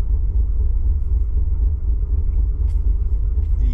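A Jeep's engine rumbles steadily on a test drive, a deep continuous low drone heard up close with no talk over it.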